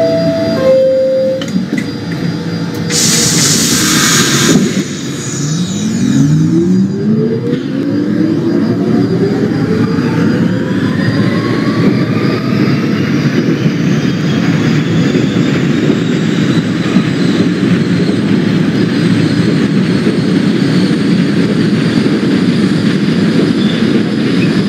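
An R46 F subway train in the OpenBVE train simulator rolls along steadily, a loud continuous rumble with rising motor whine and rail noise, plus a short burst of hiss early on.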